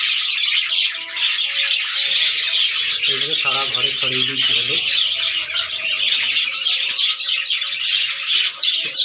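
Budgerigars in a breeding room keep up a dense, continuous chatter of chirps and squawks, loud and close throughout, with someone talking briefly over the flock partway through.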